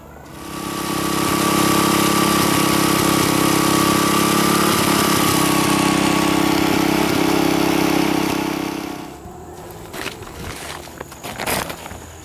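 Small gasoline garden tiller engine running steadily and loudly close by for about nine seconds in a dusty shed, then cutting off, leaving quiet handling noises.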